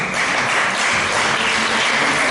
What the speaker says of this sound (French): Mesdames, messieurs, on les applaudit